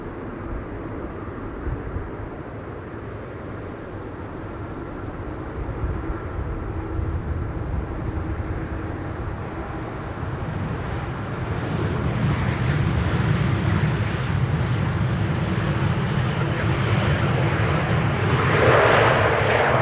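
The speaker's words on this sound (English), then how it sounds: "KLM, Embraer 190 arriving from Aalborg." A KLM Embraer 190 airliner arriving at Schiphol's Buitenveldertbaan runway 27 produces a steady jet engine roar that grows louder and closer over the second half, with no talk.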